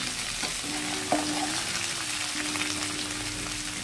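Split green chilies frying in hot oil with taro for a snakehead fish curry, a steady loud sizzle with a brief clatter of stirring, no voices.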